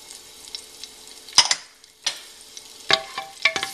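Green chilies, bay leaves and asafoetida sizzle in hot oil in a pan while a spoon stirs them, giving close, crackling frying with several sharp scraping strokes.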